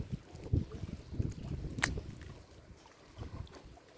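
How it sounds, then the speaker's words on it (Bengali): Speed boat on a river by a Bangladesh border guard camp, heard as a faint, steady engine rumble with wind buffeting the microphone and no voices. "আমরা স্পিড বোট দেখতেছি এখানে"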